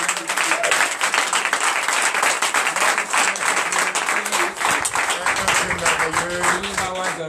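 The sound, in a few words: congregation applauding at a church prayer night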